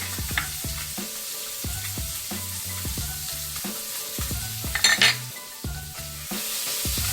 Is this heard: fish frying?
yes